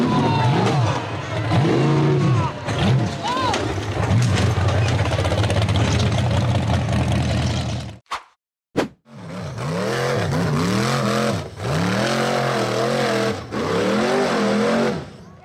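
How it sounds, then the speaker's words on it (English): Red steel-frame off-road buggy engine revving hard as it climbs a tall dirt embankment, loud and close with rising and falling pitch, a short silent gap partway, then more hard acceleration. "A red steel frame buggy accelerated up a tall dirt embankment."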